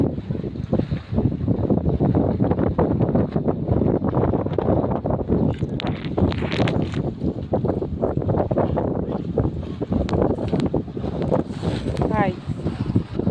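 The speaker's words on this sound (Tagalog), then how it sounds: "Lakas ng hangin, no?" Strong gusty wind by a lake buffets the microphone with loud, continuous low rumble throughout, with people talking over it.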